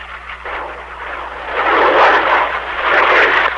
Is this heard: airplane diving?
yes